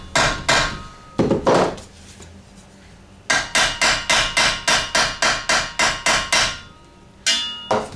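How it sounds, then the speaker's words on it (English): A hammer peens metal over on an anvil in sharp, ringing blows: a few strikes at first, then a quick regular run of about a dozen, then two more, close up with no talk. "I'm just going to peen it over."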